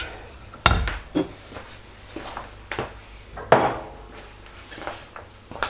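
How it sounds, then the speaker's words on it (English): A chicken marinade with cider vinegar gets stirred in a bowl, giving a few separate close knocks and scrapes of a utensil, one louder clatter early on, and quiet gaps between them. "Give it a bit of a stir."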